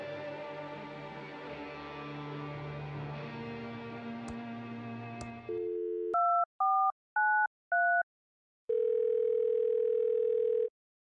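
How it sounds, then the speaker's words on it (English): Old telephone in the Thimbleweed Park video game: a steady dial tone follows a hum, then a few short beeping dial tones in quick succession and a long final tone, loud and clean with no voices. "It's just an old phone."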